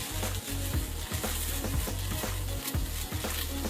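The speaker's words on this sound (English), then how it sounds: "as you can hear, that sizzle, we're at a pretty good temperature" Meat frying in a hot pan for dog food, a quiet steady sizzle with faint crackles and no voices.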